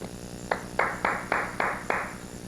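An audience at a magic trick performance gives a short round of clapping: about six distinct bursts in a steady rhythm, moderately loud and fairly close, with no talk over them.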